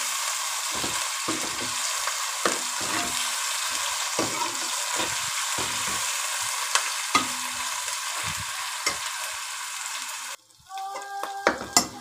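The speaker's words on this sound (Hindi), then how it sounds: "अदरक मिर्चों का पेस्ट जो हमने डाला था उसको हमने अच्छी तरह भून लिया है।" Garlic, ginger and chili paste frying with browned onions in a pan, a steady loud sizzle with repeated scraping stir strokes throughout, easing off near the end as the food is moved.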